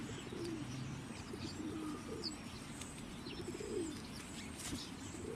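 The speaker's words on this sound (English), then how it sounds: "I can hear bird noises chirping in the background" Birds call in the background, soft chirps and cooing over a steady outdoor hum, fairly distant and continuous.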